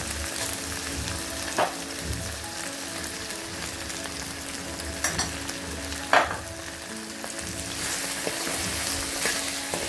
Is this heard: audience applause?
no